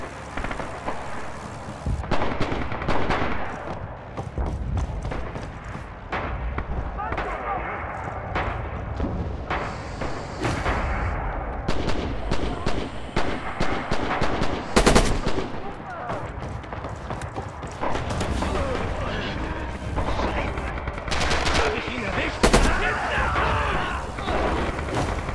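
Enemy machine gun fire in the WWII shooter Red Orchestra 2 on the Myshkova River: dense, sustained bursts of automatic fire and heavy battlefield crackle, loud and continuous, with other gunshots mixed in.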